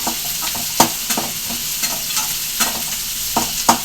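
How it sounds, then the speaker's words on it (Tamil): Onions sautéing in oil for chana masala give a steady close sizzle, broken by sharp scraping stirs of a spoon against the pan roughly every half second to second. "வெங்காயம் நல்லா வதங்கட்டும்"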